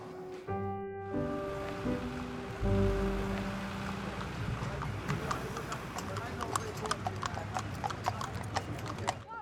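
Horses at Appleby Horse Fair in Cumbria, with a rapid, busy clatter of hooves on hard ground that follows a short tonal passage, and voices mixed in the background.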